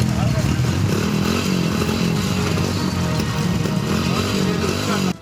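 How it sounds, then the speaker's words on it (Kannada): Motorbikes ridden recklessly along a muddy road to Ranijheri Falls in heavy rain, giving a loud, continuous engine roar with rattling clatter that holds steady for about five seconds before cutting off abruptly. "ರಾಣಿಜೆರಿ ಫಾಲ್ಸ್ ರಸ್ತೆಯಲ್ಲಿ ಮನ ಬಂದಂತೆ ಬೈಕ್ ರೈಡ್ ಮಾಡ್ತಿದ್ದಾರೆ"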